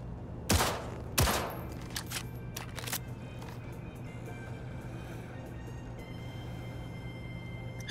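Two sharp, loud gunshots ring out close together in Cyberpunk, followed by scattered fainter shots and clicks over a low humming background.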